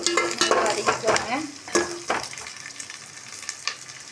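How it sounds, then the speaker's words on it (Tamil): Small onions sauté in a pan with a steady sizzle, broken by loud scraping and clinking as a utensil stirs them near the microphone, then settling into a quieter frying hiss. "நல்லா வதக்கிக்கோங்க"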